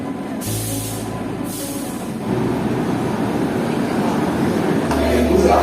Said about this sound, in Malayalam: ഇതേ നമ്മുടെ ട്രെയിൻ എത്തിക്കഴിഞ്ഞു